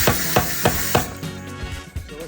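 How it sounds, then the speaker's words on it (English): A power hammer forging steel for a knife blade: four heavy, evenly spaced metallic blows ring out loud and close, then fade into softer rattling and workshop clatter. "The hammer, just what it says, it goes up and down."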